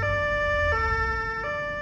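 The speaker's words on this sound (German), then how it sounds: "Der Streifenwagen überholt und bremst den Kleinbus aus." A police patrol car's two-tone siren as it overtakes and brakes a minibus on Christmas Eve, sounding loud and steady and stepping between high and low pitches with no voices over it.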